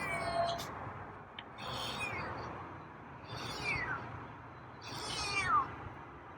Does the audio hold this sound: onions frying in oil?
no